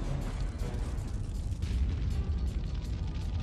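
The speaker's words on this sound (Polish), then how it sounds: "Powstała fala uderzeniowa zmiata wszystko na swojej drodze." An atomic bomb blast sends out a continuous, dense rumbling roar of the shock wave, loud and sustained with heavy low-end turbulence throughout.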